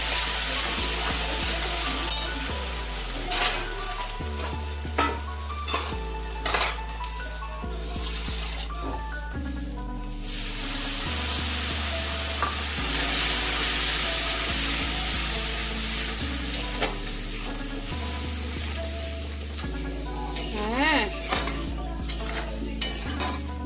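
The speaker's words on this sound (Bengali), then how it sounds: "মশলা কষানো কমপ্লিট" Spices for a meat curry fry in a pan with chili powder and turmeric, giving a steady broad sizzle and occasional stirring scrapes that run under continuous background music.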